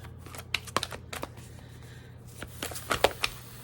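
Tarot cards being shuffled by hand, a series of irregular crisp riffles and soft slaps close by, quiet with a low steady hum beneath.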